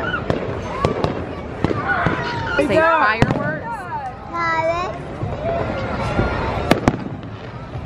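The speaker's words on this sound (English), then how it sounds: "we're waiting for the fireworks to start." Fourth of July fireworks crack and pop in sharp bursts, with whistling, crackling streaks rising between them, while a crowd of onlookers chatters and calls out throughout.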